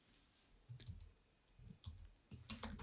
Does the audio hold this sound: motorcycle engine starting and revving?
no